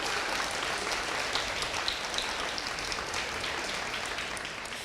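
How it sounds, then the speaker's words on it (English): Audience at a fashion runway show applauds the speakers: steady, dense clapping fills the room at moderate level and holds without pause throughout. "Can we give all of our speakers another round of applause?"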